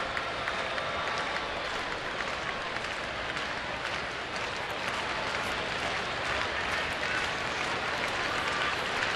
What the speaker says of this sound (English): Some of them clapping for the final out here.